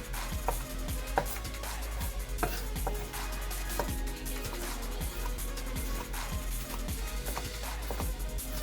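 Knife slicing a pepper on a board for brown stew fish, giving a steady run of crisp, close chopping taps over a busy kitchen background hum, with no talking.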